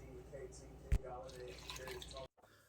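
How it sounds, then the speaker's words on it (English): A steady trickle of hot, not boiling, water pours into a bowl of flour, with a brief knock partway through, before stopping abruptly. "And to that we'll add hot water, not boiling."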